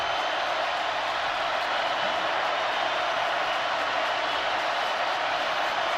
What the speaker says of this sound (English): You can hear this crowd get into it.